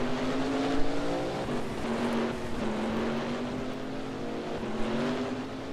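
Race car engines droning steadily through a Second Life virtual race, a sustained harmonic whine with slight pitch shifts as the cars hold speed, loud and continuous with no talk.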